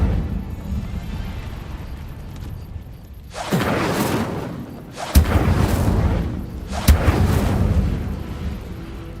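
Incendio fire spell cast in Hogwarts Legacy, three forceful whooshing bursts of roaring flame spaced a couple of seconds apart, each with a sharp onset and a rumbling tail, over a low ambient bed.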